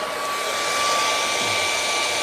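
A hair dryer on its cold setting blows over wet paint on a plastic surface, giving a loud, continuous, steady whoosh with a faint whine, close and alone.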